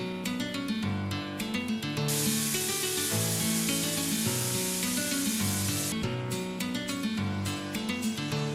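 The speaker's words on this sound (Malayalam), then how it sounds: "ഇനി നമുക്ക് ഇറച്ചി വേകാനായി 4-5 വിസിലിന് വേണ്ടി വെയിറ്റ് ചെയ്യാം." A pressure cooker holding boneless beef for a Kerala-style cutlet lets out a loud, steady hiss of steam lasting several seconds, with music playing underneath throughout.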